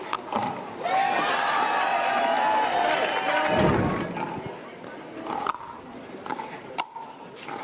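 Spectators cheer at a professional pickleball doubles match at the PPA Atlanta Open, a loud swell of crowd noise that fades away, while commentators talk over it.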